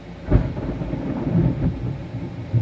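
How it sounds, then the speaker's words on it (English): Low rumbling thunder during a rainstorm, rolling in a few soft booms over a constant wash of rain, no voices. "There's still some thunder and lightning going on."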